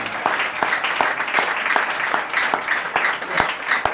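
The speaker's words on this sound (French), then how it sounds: "Là, on acclame Jésus ça." A church congregation applauds to acclaim Jesus during a sermon, a loud continuous clatter of hands punctuated by sharp individual claps in an irregular pulse.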